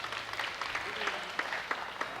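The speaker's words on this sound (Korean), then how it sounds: "여러분들 박수 좀 보내주십시오." A television studio audience applauds a family reunion on a 1983 broadcast, a continuous, moderately loud round of clapping with a few sharper claps standing out near the end.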